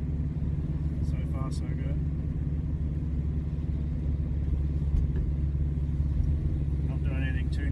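Turbocharged Subaru EA82T flat-four engine running under light load with revs slowly climbing, a steady low rumble throughout beneath a voice and some faint rattles.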